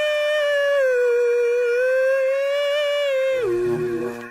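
A dog howls in the Harvey Birdman: Attorney at Law PlayStation 2 game, a long, loud, steady wavering howl that drops in pitch and breaks into a lower whimpering tail at the end.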